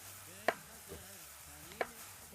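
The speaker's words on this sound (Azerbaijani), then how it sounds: "Mən də keçim sonuncu tərəvəzimizin doğranmasına." Knife chopping a potato on a board, two sharp distinct thuds spaced over a second apart against a quiet room hum.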